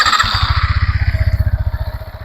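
A Yamaha XSR 155 motorcycle engine catches and settles into a steady, loud, rapid thumping idle close by, with no talk over it.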